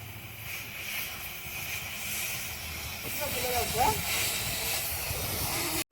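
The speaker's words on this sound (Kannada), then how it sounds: "ಗ್ಯಾಸ್ ಕಟ್ಟಿಂಗ್ ಮಾಡ್ತಾವ್ರೆ ನೋಡ್ರಿ" Gas cutting torch hissing steadily while cutting a metal bolt on a JCB machine in a garage, a broad continuous hiss with faint background voices.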